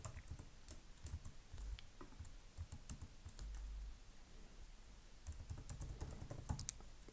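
Code is typed on a computer keyboard, quiet rapid irregular clacks in bursts with brief pauses, close and soft.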